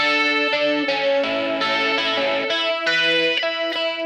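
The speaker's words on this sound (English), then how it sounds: "Here is the guitar melody. It's kind of a little arpeggio." A pop guitar plays a bright little arpeggio, the melody from a song, processed with chorus, distortion and other effects. Clear, sustained plucked notes ring steadily and loudly throughout, with no voices.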